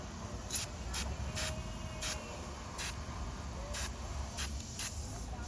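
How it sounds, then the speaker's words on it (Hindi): A 3M foaming car interior cleaner sprays from above onto a car's interior speaker area, giving a series of short hissing bursts about every half second over a steady background hum. "इसको हम ऊपर से स्प्रे करेंगे"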